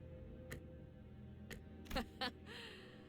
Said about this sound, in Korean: 째깍거리는 소리만 들리네. 째깍대는 소리가 빨라지는 걸.